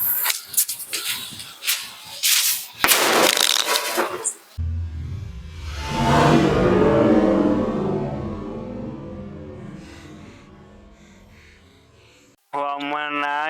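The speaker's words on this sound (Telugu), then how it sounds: "2వ బాంబు నైట్ పూట ఎట్లా పేలిస్తే ఎట్లా ఉందో మనం ఇప్పుడు చూద్దాము రండి" A homemade eggplant-shaped Diwali cracker bomb is lit and bursts at night with a loud blast, followed by a long fading crackle and rumble; people talk loudly before the explosion.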